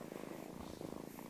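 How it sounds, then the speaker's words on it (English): Ancient ginger cat purring in the stage production Move Over Moriarty, a soft steady rumbling purr with rhythmic pulses, close and continuous without speech. "Fidget the dog was joined in Move Over Moriarty by Mr. Tibbs, Sherlock Holmes's ancient ginger cat"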